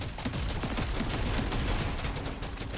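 Rapid shotgun blasts and dense gunfire from the video game Deep Rock Galactic: Survivor, a steady loud clatter of overlapping shots with no pauses.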